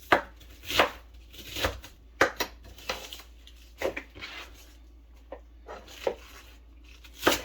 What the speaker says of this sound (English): It don't take long to cut it up